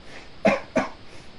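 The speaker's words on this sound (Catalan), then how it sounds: "tinc tos, no sé què em passa" Two short, close coughs in quick succession, alone in a quiet room.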